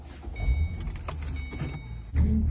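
A car door thumps and keys rattle, then the engine turns over and idles low as the car backs out of a driveway, with a louder rumble at the end.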